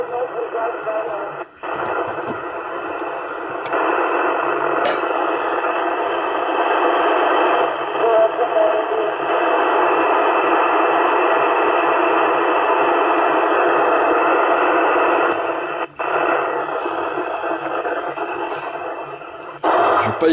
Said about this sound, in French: faut aimer le bruit criard de la FM parce que là, j'ai des filtres qui sont mis quand même